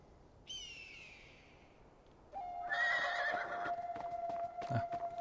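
In the Beyond Two Souls video game, a horse gives a whinny, then a second longer neigh, followed by a few hoof clops and a soft snort, all fairly quiet, with no talking.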